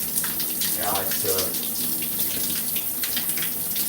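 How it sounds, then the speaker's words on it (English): Cold shower water runs continuously over a person's chest, close and steady, with splashing and a few brief gurgling shifts as the flow is interrupted. "when you just have the water running over your chest, it's not such a big push."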